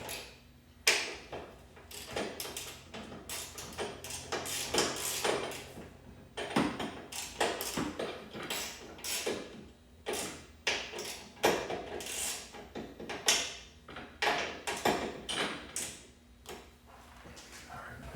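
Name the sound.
ratchet starting strut mount nuts on a BMW E36 M3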